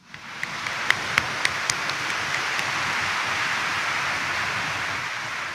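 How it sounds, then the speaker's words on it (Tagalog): A church congregation claps loudly and fast. The applause swells in within the first half second, with a few sharper claps standing out early on. It then holds as a dense, steady roar of many hands for over five seconds. "itaas ang kamay at pumalakpak ng mas malakas"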